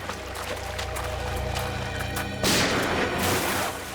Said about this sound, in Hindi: पीछे पीछे तो गोली चला रहे।